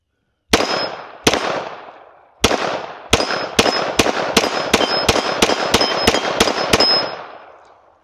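Pistol shots from a Glock fitted with an MCK kit, emptying a magazine: about fourteen sharp, loud reports, the first few spaced out, then a steady quicker cadence, each with a ringing tail and no talking.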